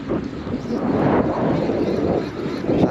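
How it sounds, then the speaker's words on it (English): Steady wind blows across the Town Quay fishing pier in Southampton, a continuous loud rumbling buffet of gusts against the microphone with no pause. "That wind is pushing it that way."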